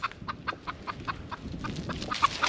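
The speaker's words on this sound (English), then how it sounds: "we need to desperately find that chicken and get her back to her nest" A broody hen clucks in a steady run of short, evenly spaced calls close by near her nest, the clucks growing busier and slightly louder toward the end over a low rustling background.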